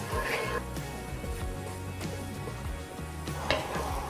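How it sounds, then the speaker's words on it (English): Garlic and shallot hit hot oil in a pan and sizzle loudly, with scraping stirs and utensil clicks throughout, someone talking over the frying. "Oil's hot. Garlic and shallot into the pan. Give it a stir as soon as it hits the pan."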